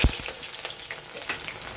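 Sliced small onion fries in hot mustard oil for a beef liver masala, with the gas just switched off, giving a steady, close sizzling hiss after a brief louder crackle at the start.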